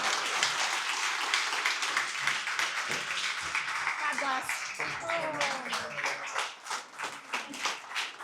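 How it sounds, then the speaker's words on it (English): Audience applause after a business coaching talk: brisk, dense clapping from a crowd running throughout, while a voice speaks briefly over the middle and the clapping thins and becomes more uneven toward the end. "Give her a round of applause."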